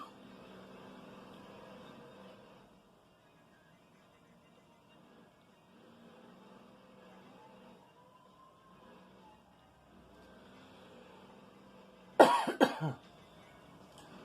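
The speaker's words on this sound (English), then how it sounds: "It's giving me a tickle cough." A single sharp tickly cough bursts out near the end, after a long stretch of faint low background hum.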